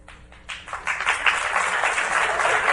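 Applause breaks out at a memorial gathering as the speaker Taylor comes up. It starts with a few claps, then swells into steady, moderately loud clapping from the crowd.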